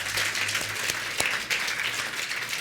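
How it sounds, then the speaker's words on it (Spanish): A church congregation applauds steadily, a dense wash of clapping from many hands that holds at an even, fairly loud level throughout. "¿Cuántos podrán darle un aplauso fuerte al Señor"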